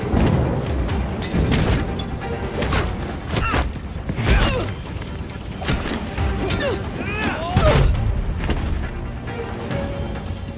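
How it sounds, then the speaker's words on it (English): Fireworks burst in the Gotham Knights video game, a series of loud booms and crackling thuds scattered irregularly through the scene, with a voice talking between the blasts. "Enjoying the fireworks."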